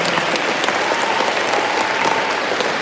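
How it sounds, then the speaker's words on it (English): An audience at a school awards ceremony applauds, a dense, steady wash of clapping that fills the room loudly and evenly throughout, with no talk over it. "Let's give everybody a round of applause."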